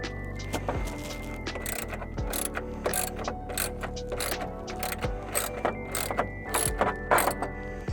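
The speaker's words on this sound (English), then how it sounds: "In a second, we'll also need to take out these bolts as well, but we'll start with these 4" A ratchet wrench loosens 10mm bolts from a Ford Maverick grille, giving rapid close clicking bursts repeated in quick strokes with brief pauses between them, and no one speaking.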